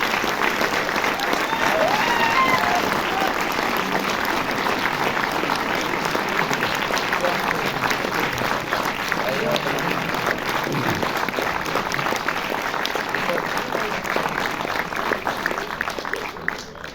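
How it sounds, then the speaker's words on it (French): A cinema audience at a film premiere at Ciné Cité Bercy applauds the film team, dense sustained clapping from a large crowd that holds steady for the whole stretch before tapering off at the very end. "On peut applaudir toute l'équipe dessus, s'il vous plaît."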